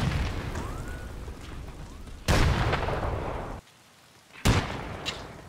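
M67 frag grenade blasts in the shooter game Escape from Tarkov: two loud booming explosions a couple of seconds apart, each followed by a rumbling decay, over ambient outdoor game noise.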